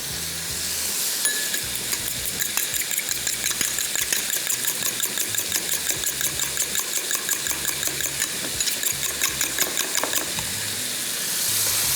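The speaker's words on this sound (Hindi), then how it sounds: "चलिए, इसको फ्राई किया।" Pie filling for a creamy chicken pie sizzles loudly and steadily in a pan, with a regular run of stirring scrapes heard close up over the continuous frying hiss.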